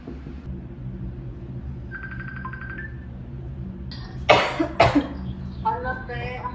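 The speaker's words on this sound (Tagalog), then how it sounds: "ubo lang to" A person gives a couple of harsh, close coughs in a quiet room, the first loud and sharp, the second a bit weaker, followed by a short breathy sound, with a faint tonal beep heard earlier.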